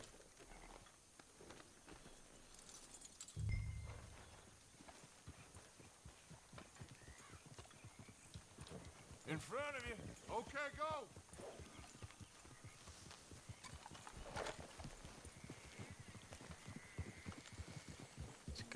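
Horse hooves clip-clopping in Red Dead Redemption 2, a steady faint patter of footfalls with a whinny partway through, under game sounds and people talking.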